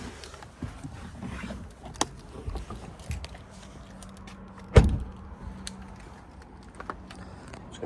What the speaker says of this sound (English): I'm just going to pop the bonnet and give you a look underneath